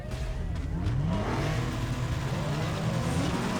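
A car engine drones and revs steadily in the video game Need for Speed Underground 2, apparently a Nissan Skyline, pitch rising and falling as it accelerates, loud and continuous throughout.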